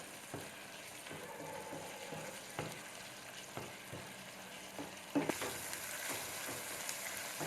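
Vegetables fry in a pan for lasagna with a soft, steady sizzle and occasional scraping stirs, and a louder sizzle rises near the end.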